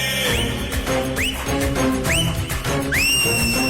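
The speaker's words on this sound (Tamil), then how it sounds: "அடிட விசில் விஜயின் வெற்றி" Whistles blown repeatedly during a crowd chant at a political rally, sharp rising shrieks several times over a dense background of chanting voices.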